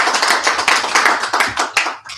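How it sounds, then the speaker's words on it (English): A small group applauds BJ at a training session, close and loud, with distinct sharp claps in an uneven rhythm tapering off after about two seconds. "give BJ a round of applause."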